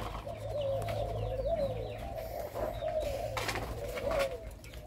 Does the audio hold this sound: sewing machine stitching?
no